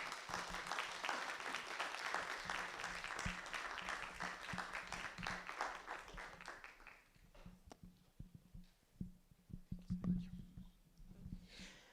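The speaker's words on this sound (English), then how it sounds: "Another round of applause for that opening keynote" Applause follows an opening keynote at an East African communication conference, a dense round of clapping that thins into scattered individual claps and dies away over about twelve seconds, with faint murmuring underneath.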